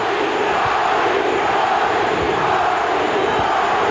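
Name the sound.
boxing crowd chanting Johnny for Johnny Tapia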